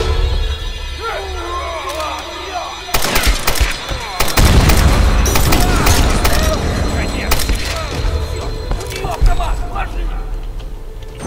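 Rapid bursts of PPSh submachine gun fire in Tomb Raider (2013), loud and repeated, mixed with booms and clatter of combat, while someone talks excitedly over the action.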